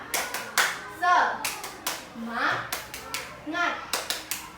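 Sharp hand claps in a quick rhythmic pattern, bursts grouped between children's voices talking and chanting along, from a primary school class's group clapping cheer.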